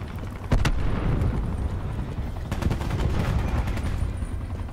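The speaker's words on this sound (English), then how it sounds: "Throwing cluster grenade." Cluster grenade detonations in Call of Duty Black Ops 4 domination gameplay, a rapid string of sharp bursts and booms over a rumbling battlefield backdrop, with no voices.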